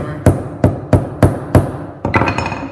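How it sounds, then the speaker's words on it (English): Hammer tapping a wheel onto an axle against a table: five sharp, evenly spaced metallic taps, close and loud, then a quicker cluster of lighter knocks, with no talk. "Tap nice and light again with the hammer"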